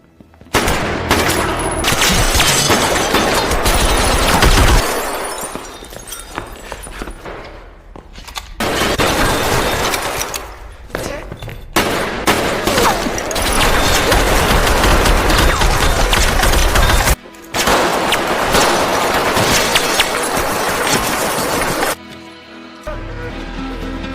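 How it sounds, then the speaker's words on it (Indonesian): Heavy gunfire fills a film shootout in a hotel from A Bittersweet Life (2005), with loud sustained bursts and rapid shots that break off briefly and resume, alone without talk. "Baku tembak besar pun kembali terjadi."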